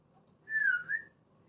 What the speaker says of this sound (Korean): 휘파람 불 줄 아는 사람